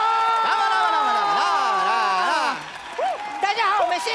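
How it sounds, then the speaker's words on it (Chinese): A studio audience at a comedy variety show breaks into applause and cheering, a steady crowd wash running beneath loud, animated voices that speak and shout over it throughout. "鼓掌一下！ 我们掌声欢迎慢才少爷。"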